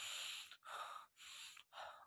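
A man imitates panting with his voice, making three quick, hard, breathy gasps in a steady rhythm, close and fairly quiet, with short pauses between them.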